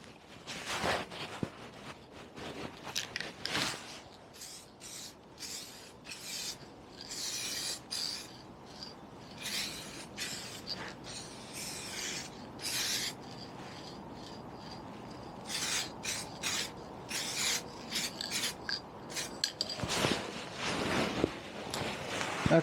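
A brush drags lacquer across the front end of a 1974 Piaggio Vespa Ciao moped in soft, uneven rubbing strokes, close and fairly quiet, with scattered louder scrapes and brief pauses between passes.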